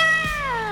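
A cat in the Sail video game gives a single drawn-out meow that falls slowly in pitch, clear and close, with no talk over it.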